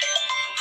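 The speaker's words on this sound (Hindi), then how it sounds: "फोन भी आ रहा है मेरा बार बार, तो देखते हैं किसका फोन आ रहा है" A mobile phone rings at a birthday celebration with a brief burst of bright melodic ringtone notes, short and clear, with no voices over it.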